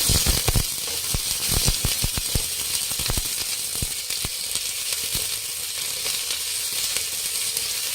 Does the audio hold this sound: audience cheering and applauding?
no